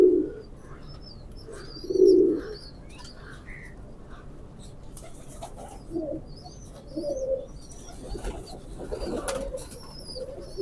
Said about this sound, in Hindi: माशाल्लाह बहुत अच्छा कबूतर है।